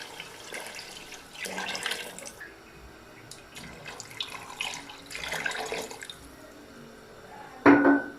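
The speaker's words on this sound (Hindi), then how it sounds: "अब मैं इसमें पानी डालूंगा।" Water poured from a glass into a pot of roasted chickpeas for chana pulao, several intermittent splashing pours close by, ending in a brief louder splash.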